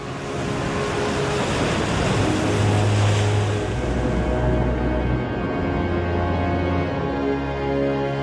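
Rough surf breaking along the west coast of South Africa makes a loud, continuous roaring wash with a deep rumble beneath, steady for several seconds and then thinning slightly toward the end.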